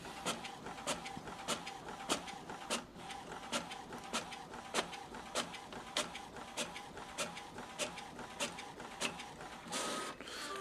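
A printer runs steadily, its mechanism clicking and whirring in a regular rhythm as a page feeds through, near and moderately quiet, while low on black ink.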